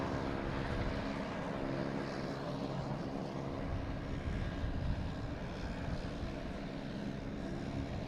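A JetBlue airliner takes off at Boston Logan Airport, its engines a steady, loud, broadband roar that holds throughout with no talking.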